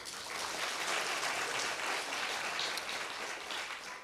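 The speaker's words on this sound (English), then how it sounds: "Please, a round of applause." A studio or event audience at a Botswana Television and Radio Botswana gathering breaks into sustained applause, a dense, even wash of many hands clapping at steady volume throughout, with no speech over it.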